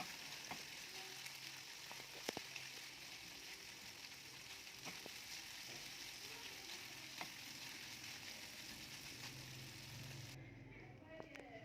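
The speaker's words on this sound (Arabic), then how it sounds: "هنبدأ بقى نقلب علشان نتأكد ان هي يعني استوت من كل الجوانب" Chicken pieces frying in a pan for a stuffing, steady broad sizzle throughout with sharp scraping clicks of a spoon stirring and separating the pieces, close and continuous, ending in a quieter low rumble.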